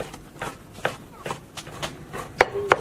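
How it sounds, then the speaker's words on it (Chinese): A knife chops wild boar meat on a board in a handful of sparse, soft thuds with irregular spacing, fairly close but fairly quiet. "再把野猪肉切碎"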